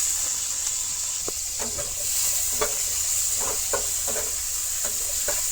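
Chopped onion, garlic and ginger fry in hot oil in a village kitchen, giving a constant loud sizzling hiss broken by scattered scraping stir strokes, with no talk.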